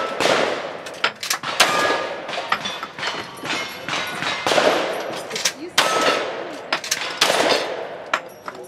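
Gunshots at a shooting competition stage ring out in rapid bursts of loud, sharp, echoing cracks with clanks among them, close and continuous, while voices are faintly heard in the background.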